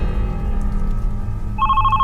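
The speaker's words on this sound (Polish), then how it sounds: "Gdzie, gdzie, gdzie telefon dzwoni?" A telephone rings inside a house in a horror video game, its electronic bell tone starting near the end and repeating over a steady low hum of game ambience.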